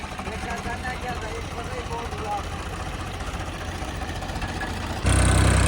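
A Ford tractor engine labouring steadily while pulling a loaded trolley on a farm, a continuous low drone that swells louder near the end, with people talking over it.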